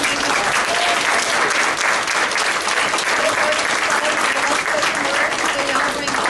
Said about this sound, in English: can we give another round of applause for all the recipients and nominees?